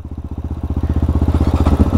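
A motorcycle engine idles and revs close by in a steady rapid thumping pulse, rising slightly as the rider works the clutch and gears; no talking.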